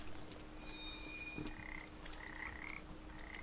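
Frogs croak repeatedly in the video game Papo & Yo, short throaty calls over a steady ambient hum and scattered game effects, with no talking.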